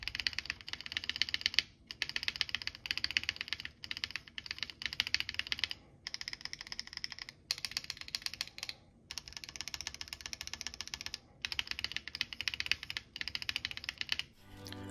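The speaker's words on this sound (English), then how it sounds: "I also put on some keycaps to test the stabilizers and make sure they're not rattling" Mechanical keyboard with keycaps fitted over Durock stabilizers, typed in quick continuous bursts of close, clacky keystrokes separated by short pauses, with no talk.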